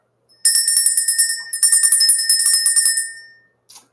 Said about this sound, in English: because I didn't ring the bell